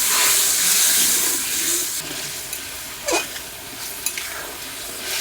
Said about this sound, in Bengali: মশলাটা সুন্দর করে কষানো হয়ে গেছে, এখন জল দিয়ে দেবো।